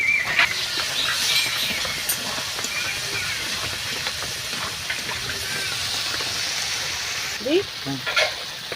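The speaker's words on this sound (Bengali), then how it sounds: "পুরো ভাজা পটলটার মধ্যে দিয়ে ভালো করে কষিয়ে নেব পটলটাকেও" Fried pointed gourd is stirred into spices with coriander powder in a pan, giving a continuous sizzle and hiss with occasional scraping of the spatula. A brief voice-like sound comes near the end.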